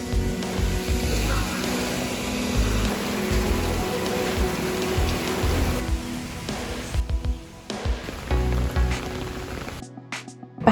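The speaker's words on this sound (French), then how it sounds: "En tout cas, il pleut beaucoup. Il y a beaucoup de vent" Heavy rain pours down steadily during a windy storm in Taiwan, a dense, loud wash of water that briefly drops away near the end.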